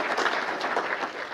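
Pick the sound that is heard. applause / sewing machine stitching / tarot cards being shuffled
applause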